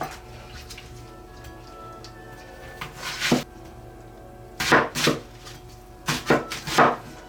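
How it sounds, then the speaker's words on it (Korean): A knife chops an onion into large chunks on a cutting board, likely for Korean-style sweet and sour pork. Short bursts of quick, crisp cuts are separated by pauses in a quiet kitchen. "양파는 좀 큼직하게 썹니다"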